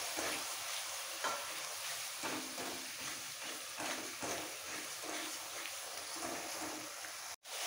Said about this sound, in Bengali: দই দিয়েও আরও 2 মিনিট কষিয়ে নিতে হবে।